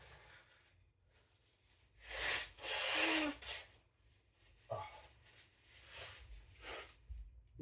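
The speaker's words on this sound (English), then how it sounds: "I'm gonna blow my nose off camera." A person blows their nose at a knife-sharpening bench. Two strong, hissing nasal blasts come close together, then a few shorter snorting puffs follow, separated by quiet room tone.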